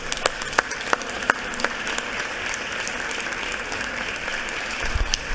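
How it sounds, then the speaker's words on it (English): Legislators in a chamber applaud a group of students, a moderate, steady round of clapping with distinct individual claps standing out, no speech over it. "please join me in a round of applause for these outstanding students"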